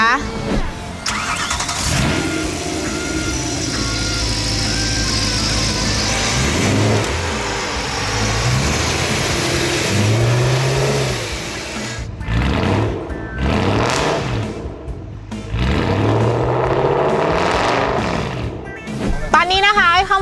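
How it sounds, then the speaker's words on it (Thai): A used BMW M3 E92 with a 420 hp V8 cranks to life and revs hard: loud, close engine bursts rising and falling, with someone talking over parts of it. "อยากฟังเสียงเครื่องยนต์กันไหมคะ อุดหูได้เลยค่ะคันนี้"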